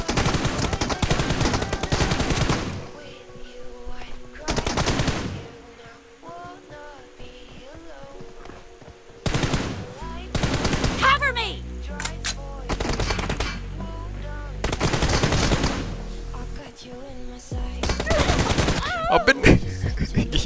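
Bursts of automatic rifle fire from an opponent peeking in a PUBG Mobile M416 team deathmatch, loud rapid volleys recurring several times between quieter gaps with game sounds.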